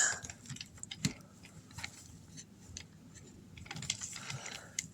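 Plastic parts of a Transformers Legacy Trashmaster toy being folded and snapped into place, a scattered series of small close clicks and ticks with quiet handling between them.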